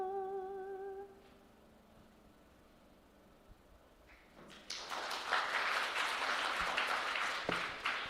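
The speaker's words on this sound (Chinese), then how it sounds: "掌声归给主。" A church congregation at a Sunday worship service breaks into loud, sustained applause after a soft, fading musical tone, the clapping filling the room and continuing steadily to the end.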